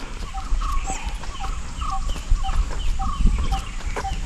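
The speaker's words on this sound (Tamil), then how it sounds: "அங்கங்கே பறவைகளோட சத்தம்." Scattered bird calls ring out in Chinnar forest, short repeated chirps and whistles spread across the clip over a steady low background hum, with no talking.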